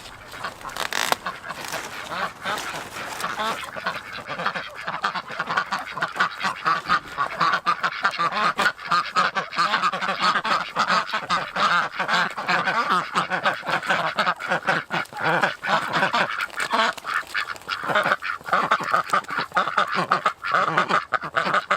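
A flock of ducks quacks nonstop for over twenty seconds, a dense, loud, close chorus of overlapping calls with a few honks mixed in.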